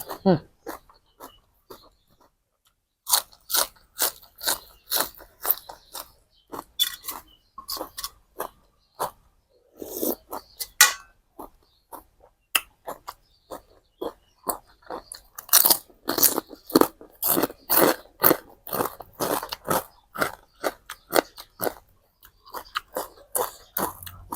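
Someone chews a crunchy Thai som tam made with stink beans and fresh shrimp, producing close, repeated crisp crunching bites in irregular bursts with brief pauses, while people talk between mouthfuls.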